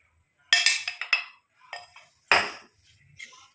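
A metal utensil clinks and scrapes against a bowl while mixing spice powder into mango, giving a few sharp clattering strikes in quick bursts with quiet gaps between, close by.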